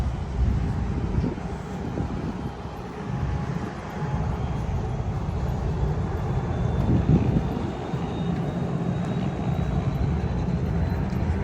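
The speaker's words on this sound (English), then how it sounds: "If you like helicopters, there's one that's ready to take off right there." Rumbling engine and rotor noise from a helicopter readying for takeoff, heard outdoors on a busy street among traffic and wind, fairly steady and swelling slightly in the middle.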